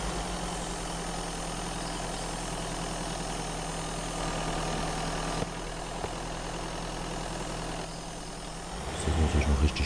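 A car engine idles steadily in the Mist Survival video game, a low constant rumble that runs throughout before a brief louder shift near the end, with someone talking over it.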